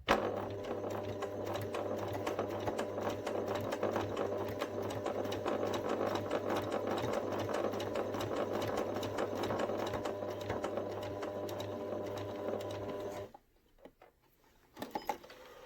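Sewing machine stitching a narrow seam to hold a teddy bear's arm in place, a close, even mechanical whir running for about thirteen seconds before stopping abruptly, followed by a few faint handling sounds.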